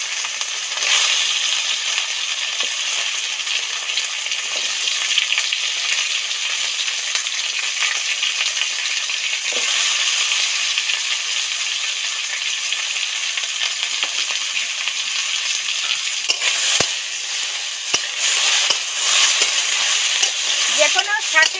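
Vegetables with taro, tomato and potato fry in oil in a pan for a leafy greens stir-fry, a steady close sizzle with occasional scrapes and clinks of stirring.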